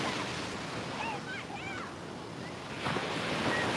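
Ocean surf rolls steadily at sunset, a broad wash of waves with wind buffeting the microphone and faint bird calls above, swelling slightly near the end.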